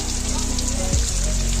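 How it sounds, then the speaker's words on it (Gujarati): Heavy monsoon rain pours steadily during a red-alert downpour in Banaskantha, Gujarat, as broadband hiss over a low hum, with one brief low thud about two-thirds of the way through. "વરસાદ"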